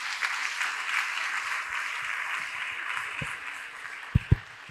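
A church congregation applauding the Lord with steady, sustained clapping from a crowd, fading slightly toward the end, where a few louder knocks stand out.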